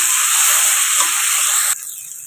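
A soybean mixture with a splash of water sizzles loudly in a pan as it is stirred, giving a dense, steady hiss that drops suddenly to a softer simmer near the end.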